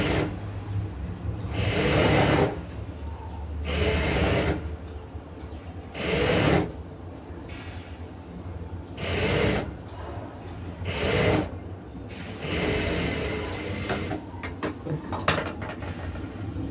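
A sewing machine stitching a folded quarter-inch hem on a sleeve, loud whirring bursts of a second or two at a time, repeated with short pauses between runs and light handling noises.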